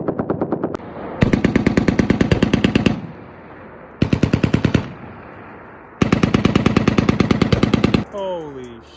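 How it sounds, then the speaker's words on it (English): Machine gun firing from an open bolt at a shooting range rips off three long, loud bursts of rapid, evenly spaced shots separated by short pauses, followed by a brief rising shout. "Once the rounds are in, close it because it shoots from the open bolt position."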